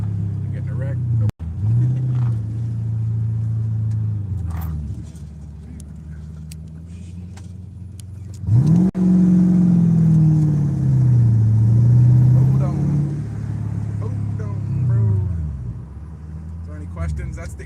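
A car engine hums low and steady as it is driven, its pitch climbing and dropping through gear shifts with a sharp jolt at each change; a voice talks intermittently over it.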